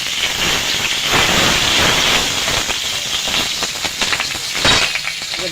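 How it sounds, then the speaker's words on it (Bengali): Bay leaves and cumin seeds sizzle and spatter in hot oil in a pan, a loud, dense frying hiss that carries on throughout with small crackling bursts and no voices. "তেলটা গরম হয়ে গেছে, আমি দুটো তেজপাতা ফোড়ন দিয়ে দেব, কটা জিরে দিয়ে দেব"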